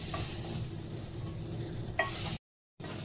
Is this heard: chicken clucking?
no